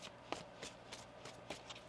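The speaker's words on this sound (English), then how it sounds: "One more shuffle." A deck of tarot cards being shuffled by hand, a series of quick crisp riffling bursts at a steady pace, close and fairly quiet with no voice.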